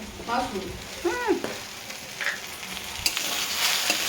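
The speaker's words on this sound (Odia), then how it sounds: "ଶାଗ ଭଜା ହେଇଗଲା ସାଙ୍ଗମାନେ ଦେଖନ୍ତୁ ଶାଗ ଭଜା ହେଇଗଲା" Leafy saag greens sizzling and frying in a pan, a steady crackling hiss with a few stirring scrapes and brief chirpy background sounds, close and fairly loud.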